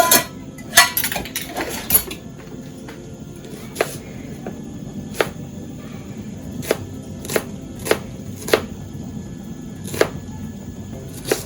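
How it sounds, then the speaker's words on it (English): Knife chopping onions on a board while preparing tomatoes and onions for spaghetti, a series of sharp, separate, irregularly spaced thuds, fairly close over low kitchen background hum, with no talking. "As I chop my onions"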